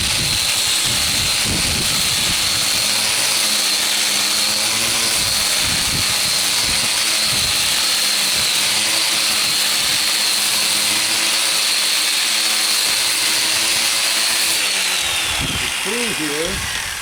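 An angle grinder with a stripping disc strips rust from a rusty metal table in a loud, continuous, high-pitched whine that holds steady throughout and drops in pitch near the end as it winds down. Talk is heard underneath.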